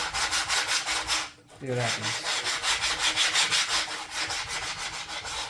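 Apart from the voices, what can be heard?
hand sanding a wooden router template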